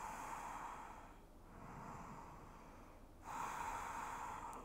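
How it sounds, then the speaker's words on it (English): Slow, deep breaths during a Pilates mat session, faint airy inhales and exhales with brief pauses between them, quiet and close. "Deep breaths."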